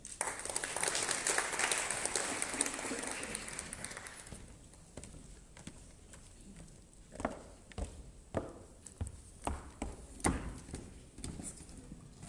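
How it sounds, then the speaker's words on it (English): Applause at an annual budget review seminar, partly played back through the room speakers: a burst of dense clapping for about four seconds. It then breaks into sparse, echoing individual claps and knocks in a quiet hall. "When you clap your hands, the speakers also give off some applause, unless it's the mics picking your applause."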